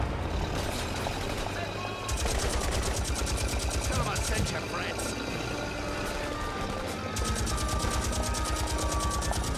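Rapid bursts of gunfire from the video game The Saboteur, loud and continuous with a short pause, over a rumbling vehicle or engine bed, with someone talking along.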